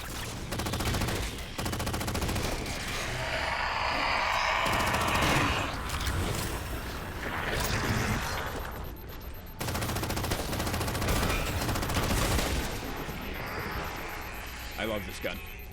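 Rapid, sustained gunfire from a weapon in Halo 4, a dense stream of shots that is loud and close, broken briefly near the midpoint, with mechanical clatter and game effects mixed in.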